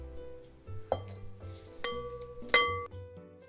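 Guacamole scraped from a utensil into a medium-sized glass bowl, several close clinks and taps of metal against glass with a ringing tone, no speech.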